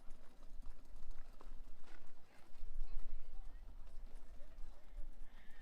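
An endurance ride horse on a trail clip-clops with steady hoofbeats, moderately near, under faint background talk.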